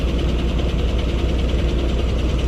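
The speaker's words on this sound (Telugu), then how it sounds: "అక్కడ ఇంకొక బస్సు సూపర్ లగ్జరీ" A super luxury bus idles at a bus stand, giving a continuous low, even engine rumble and vibration, close and fairly loud, with no voices.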